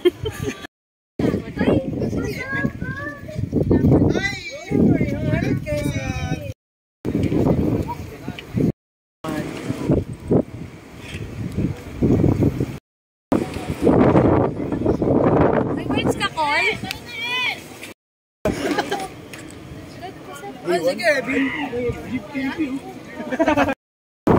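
Strong wind at People's Park in the Sky in Tagaytay on a cold, foggy day buffets the microphone in rough gusts, broken by several short cuts, while people talk close by throughout.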